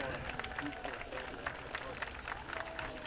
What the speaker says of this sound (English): A round of applause for your senior cheerleaders and their parents.